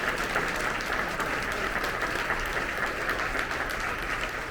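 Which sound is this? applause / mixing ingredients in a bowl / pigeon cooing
applause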